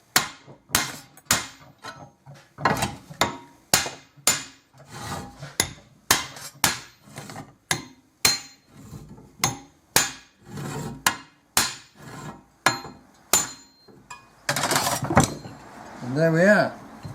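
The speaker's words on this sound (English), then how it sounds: "And then I have a huge piece of steel which I just tap on there, big hammer." A big hammer strikes a heavy piece of steel in a workshop, over twenty sharp, loud blows in a fairly regular rhythm, followed by a brief rustling handling noise at the end.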